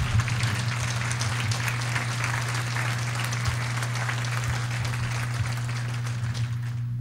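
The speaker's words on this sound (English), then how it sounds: "Let's give them a round of applause." A sustained, even round of applause from a seated audience at a chamber of commerce small business awards ceremony, greeting the finalists; dense clapping fills the hall steadily under a low electrical hum, with no speech.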